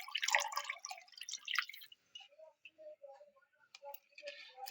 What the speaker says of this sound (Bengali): আবার ধুয়ে নিচ্ছি, দুইবার ধুয়ে নিলাম।